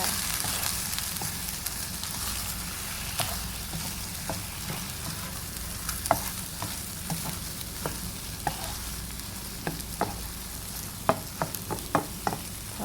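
Egg and minced pork stir-fried in a pan for glass noodle stir-fry, a steady close sizzle with occasional sharp clicks and scrapes of a spatula, no voices.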